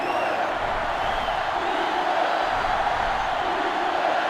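A video game stadium crowd roars steadily during an NCAA Football 2005 college football game between Ohio State and Michigan, a dense and continuous wash of cheering and whoops with faint commentary voices underneath.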